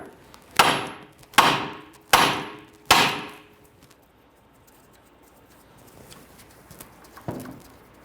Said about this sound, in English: Now we're going to strike the knuckle with our hammer to release the tie rod end.